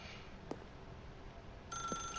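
A telephone rings in The Stanley Parable, a brief faint trill cutting in near the end over quiet background tone.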